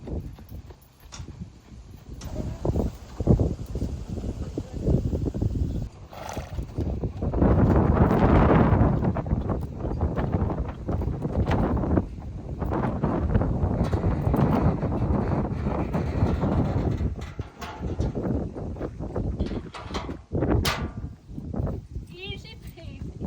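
Wind buffets the microphone in strong gusts on a windy day during a ride on a young horse, with a steady roar swelling and easing throughout and horse hooves clip-clopping beneath.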